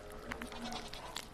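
A goat in a video game bleats briefly with a short nasal, wavering cry, faint and close, over a low background hum.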